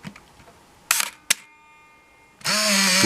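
A Canon Sure Shot 35mm film camera, with the room lights switched off, fires its shutter: two sharp clicks close together, followed a moment later by a loud, sustained whirring of the motorized film advance.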